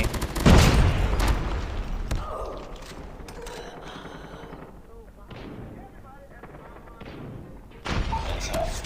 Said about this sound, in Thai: ยิงกันโหดเกินไปแล้วเนี่ย